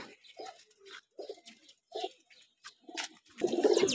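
Pigeons, a loft of female racing pigeons, cooing in a dense rising burst near the end after a few softer intermittent calls, close and fairly loud with no talk.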